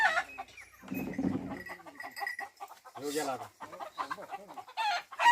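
Chickens cluck and squawk close by in short bursts as they are put into a mesh coop in a village, mixed with people talking in the background.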